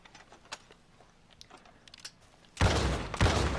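A double-barrel shotgun in Red Dead Redemption 2 fires two loud, close blasts in quick succession after a quiet stretch of faint clicks and handling noises.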